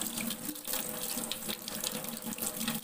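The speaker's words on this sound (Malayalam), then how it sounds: "ഇനി ഇത് നമുക്ക് വെള്ളത്തിൽ കഴുകാം." Kasturi turmeric is rinsed under a running tap, a close, steady splash and gush of water in a sink that continues throughout with no voices.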